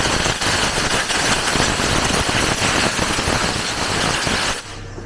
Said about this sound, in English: get ourselves a trusty little airline blower and we're going to blow all the debris from down by the coil packs, the fuel rail